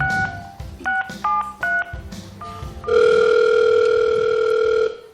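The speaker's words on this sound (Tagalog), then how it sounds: "Let me dial again." Touch-tone telephone dialing: a quick run of short dual-pitch key beeps, then one long steady tone holding for about two seconds before cutting off, clear and close with no talking.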